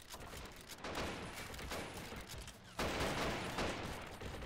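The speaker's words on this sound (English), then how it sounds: "Keep firing!" Battle gunfire in the World War II strategy game Men of War: Assault Squad 2, during the invasion of Borneo: a dense, continuous fusillade of overlapping rifle and machine-gun fire, loud and steady throughout, swelling partway through.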